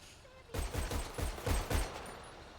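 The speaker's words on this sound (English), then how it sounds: "My gun's going off!" A short burst of about eight rapid gunshots from a weapon in a video game, evenly spaced and fairly close, following a brief quiet moment, with a faint voice in the background.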